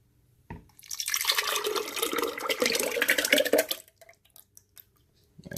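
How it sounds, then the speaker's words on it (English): Irish moss mixture poured into a blender, a sudden gush of thick liquid splashing and gurgling for about three seconds before stopping, close and fairly loud in a quiet kitchen. "pour it here in the blender"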